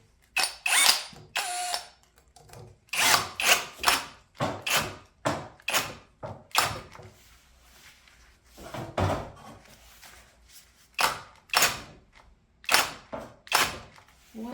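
A DEKOPRO cordless drill set to drill mode at speed 2 makes repeated short bursts of loud mechanical ratcheting and whirring. Each burst stops and restarts, with brief quiet gaps between.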